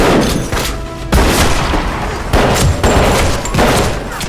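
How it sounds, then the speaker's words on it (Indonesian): Gunfire in a movie shootout scene between mafia bosses, loud dense volleys of shots with booming impacts, coming in repeated bursts throughout. "Dan terjadilah saling adu tembak."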